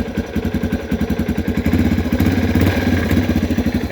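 A 2018 Yamaha TT-R230 dirt bike engine fires up without choke and runs at a steady, close, loud idle with a rapid pulsing beat that grows fuller after about two seconds.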